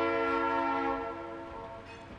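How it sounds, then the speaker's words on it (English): A train horn blares loudly with sustained harmonic tones, fading slightly as it passes, with low rumble beneath. "Train."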